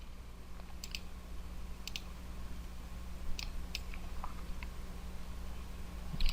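Several crisp computer mouse clicks come in short scattered bursts while a forum's menus are rearranged in Joomla, close and clear over a steady low electrical hum, with no talking.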